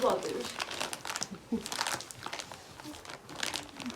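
Plastic bag crinkling in bursts as it is handled and pulled open, with voices talking over it in a busy room.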